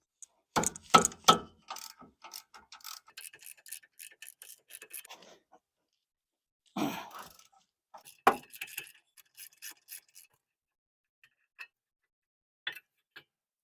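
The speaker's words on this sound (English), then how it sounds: "we can remove the bracket that holds the caliper" A ratchet clicks in short intermittent bursts, loosening the two 18mm caliper bracket bolts on the rear brakes of a 2007-2018 GM truck or SUV such as a Silverado or Tahoe. The close, crisp clicks are separated by long quiet gaps and a few faint taps.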